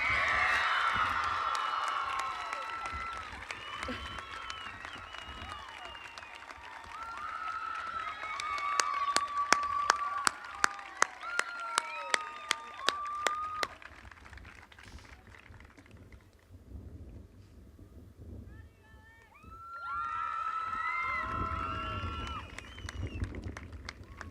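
A crowd at a high school graduation ceremony claps steadily, a broad dense wash of applause that swells, thins in the middle with some sharper claps, and then rises again toward the end, with no talking over it.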